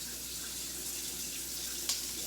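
Tap water runs steadily into a pot in a home kitchen as collard greens with smoked turkey are prepared, a constant hiss with one brief clink near the end.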